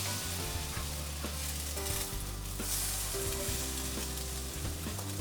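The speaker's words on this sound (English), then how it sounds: "It's been roughly a minute and the French toast is ready to flip." French toast frying in a pan, a soft continuous sizzle with a few scraping and tapping utensil sounds as it is turned over, close and fairly quiet.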